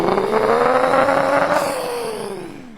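A young child vocally imitates a Flying Coach passenger vehicle, a close groaning engine drone that swells as if accelerating, then glides downward in pitch and fades out.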